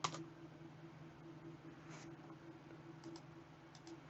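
Keys clack on a computer keyboard in short, faint bursts against a low steady hum, with scattered quick keystrokes spread across a few seconds.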